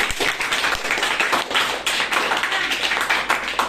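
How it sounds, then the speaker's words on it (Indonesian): A classroom of students claps for a classmate, a busy patter of hand claps at moderate volume, fairly close and steady for a few seconds. "Terima kasih Paris, berikan tepuk tangan teman-teman."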